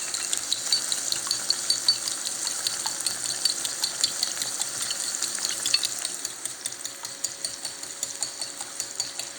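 Scrambled eggs fry in a pan with tomato and onion for huevos a la mexicana, a steady close crackling sizzle with rapid ticking pops and the scrape of stirring throughout, no voices.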